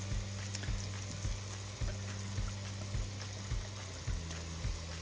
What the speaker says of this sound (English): next I'm going to work on sauteing the onions